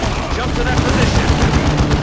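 Explosive bombardment in the Warhammer 40k Dawn of War 2 video game, a continuous loud rumble of booming blasts and gunfire-like bursts filling the whole stretch.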